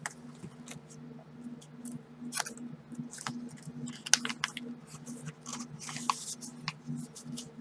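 Scissors snip repeatedly through small craft pieces for Mardi Gras decorations, a steady run of crisp close cuts and rustles over a low background hum, with no one speaking.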